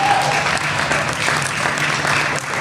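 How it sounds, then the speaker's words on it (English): Crowd applauding in a high school gym during a boys and girls basketball game night, Washington Demons against Mount Pleasant Panthers, as returning college students are welcomed; steady, dense clapping holds at full volume throughout. "Let's continue putting those hands together as we welcome home our college students that are off for break at this time"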